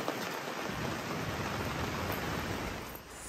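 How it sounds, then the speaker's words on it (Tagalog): Heavy typhoon rain in Zambales, Philippines, pours down in a dense, unbroken roar of drops, loud and close throughout. "Pabugso-bugso din ang ulan dito,"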